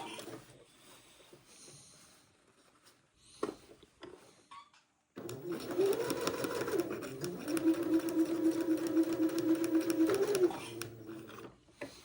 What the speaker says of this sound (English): this is going to take me a minute to get this sewn all the way around the armhole opening